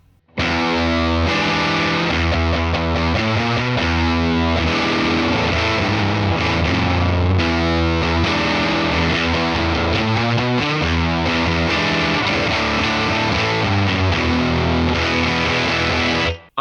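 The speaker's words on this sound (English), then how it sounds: "And we'll hear it with the fuzz." Electric guitar played through a pedal-platform amp model with a fuzz pedal, a thick, saturated distorted tone with sustained chords and riffs ringing loud and continuous for the whole stretch, no talking.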